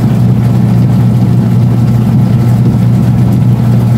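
A pure copper washing machine wash motor runs with a loud, steady low hum, continuous and close throughout.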